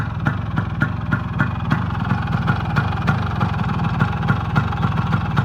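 A GTO 125 motorcycle engine idles steadily with a regular low pulsing thump, close and even throughout, no voices.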